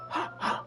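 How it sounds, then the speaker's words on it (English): Two quick, sharp inhalations hissing through clenched teeth, close and breathy, heard in a video game. "Sharp inhale like someone is sucking the air through their teeth."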